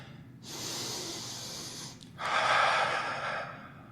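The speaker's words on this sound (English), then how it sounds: "Arms up. Big breath in." Two long, deep breaths during a beginner yoga sun salutation, each a close, airy rush lasting over a second, the second louder and fuller than the first, with no talk over them.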